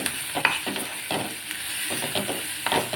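Onion masala with turmeric and chili powder sautéing in a pan for a kantola (spiny gourd) vegetable dish: a steady close sizzle with repeated scraping stirs of a spoon against the pan, no voices.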